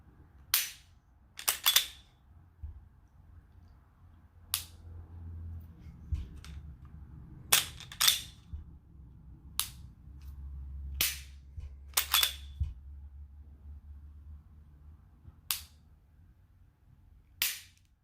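A Glock 23 or 19 with a modified trigger being dry-fired; a dozen or so sharp, light clicks from the trigger pull and reset come at irregular intervals over a quiet, low background, with no talk.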